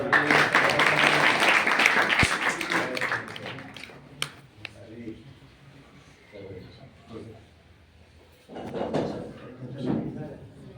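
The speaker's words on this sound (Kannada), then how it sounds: "ಚಪ್ಪಾಳೆ" An audience claps at a school event at Jagajyoti Basaveshwara high school: dense, lively applause for about three seconds, then quieter murmuring and speech with a few stray claps and knocks.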